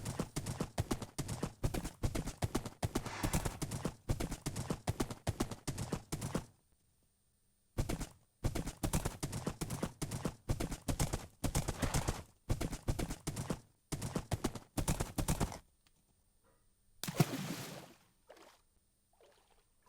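Rapid, rhythmic clip-clop of horse hooves in a video game, in bursts with short pauses between, crisp and close, ending with a brief splash-like sound as the horse enters water.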